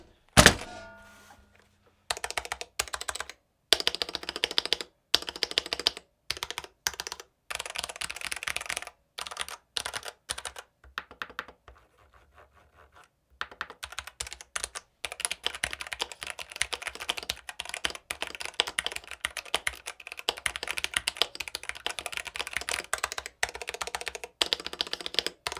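Budget gasket-mounted gaming keyboard typed on over a sound-dampening foam mat, giving a near, steady run of soft thocky keystrokes in bursts with brief pauses, heard alone without talk.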